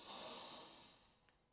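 A soft inhale through the nose during a vinyasa yoga session, a faint airy draw heard close up and gradually trailing off.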